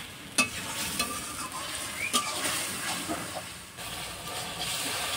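Turmeric, coriander powder and a pinch of sugar sizzle and fry steadily in hot oil as a Bengali masala is cooked down, with light stirring clinks and scrapes over a continuous close hiss.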